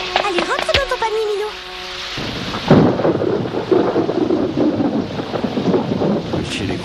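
Rain pours steadily with low rumbling thunder rolling through; a brief voice and tonal sounds come at the start before the storm takes over.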